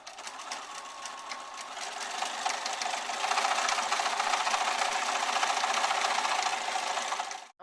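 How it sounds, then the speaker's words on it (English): A sewing machine runs a zigzag stitch around the edge of a cushion cover in one continuous close run of about seven seconds, with a busy rattling whir that stops abruptly at the end. "I've changed the feet over again so that I can do the zigzag stitch, and I'm just going to go around the entire cushion."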